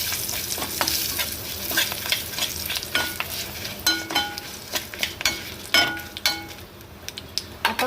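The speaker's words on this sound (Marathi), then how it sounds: "नंतर कढीपत्ता आणि लाल सुखी मिरची हे सगळं आपण मिक्स करून घेऊ" Curry leaves and dried red chillies fry in a hot tempering, crackling and sizzling steadily while a utensil stirs and scrapes the pan in irregular strokes, fairly close and moderately quiet.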